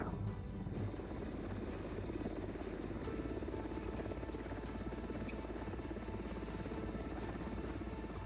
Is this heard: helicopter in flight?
yes